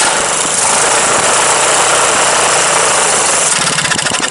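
A 20 hp Briggs & Stratton opposed-twin engine on a 2001 Murray garden tractor runs at mid throttle with a steady, loud, rough mechanical roar and vibration that holds for several seconds without voices.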